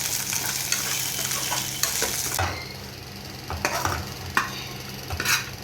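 Cashews and raisins dropped into a frying pan for a Telugu milk sweet, with a loud steady sizzle that drops off midway, followed by close spoon stirs and scrapes against the pan.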